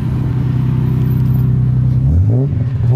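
A Ford AU Falcon engine revs hard, its exhaust note rising sharply in pitch with a deep rumble, loud and close.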